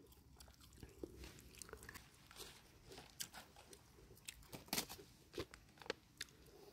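Crisp, crunchy bites and chewing of a rice meal eaten outdoors in the forest with chili dip and pork cracklings, close and distinct, irregular crunches with no talking.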